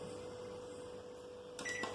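A microwave oven set to microwave mode hums steadily, then a pair of short electronic beeps sounds from its keypad near the end, close and faint, with no talk.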